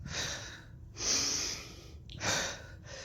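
Two slow breaths, each a long airy inhale through the nose followed by an audible exhale through the mouth, close and fairly soft in a quiet room, part of a calming breathing exercise.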